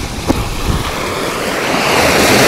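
Rough sea waves wash steadily onto a beach, a loud continuous roar of surf mixed with wind buffeting the microphone, swelling slightly toward the end.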